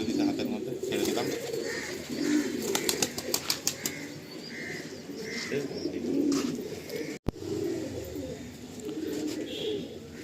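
Giribaz pigeons cooing inside a home loft, with soft repeated coos, scattered chirps and bursts of wing flapping close by over steady background noise.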